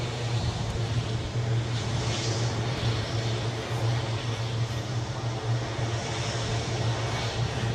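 A Ryanair Boeing 737 MAX 8-200 arriving at Edinburgh airport, a steady distant jet engine drone with a low hum, continuous and even throughout, no voices.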